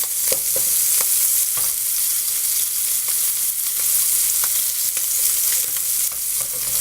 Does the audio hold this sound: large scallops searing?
yes